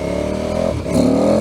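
Motorcycle engine revving and pulling hard under acceleration, a steady loud drone that dips briefly then climbs in pitch, close by with no talking.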